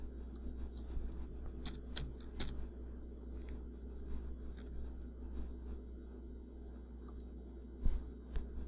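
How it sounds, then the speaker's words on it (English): A computer mouse clicks faintly a few times over a low steady room hum, sharp isolated ticks spaced irregularly with no speech. "Okay, so I'm going to go ahead and click save."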